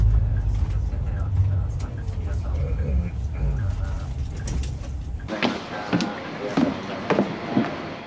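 A highway bus from Kisarazu via the Aqua-Line pulls into the underground Bus Terminal Tokyo Yaesu, with a loud low engine rumble for about five seconds, then a quieter hall with mechanical clicks and thumps and faint voices.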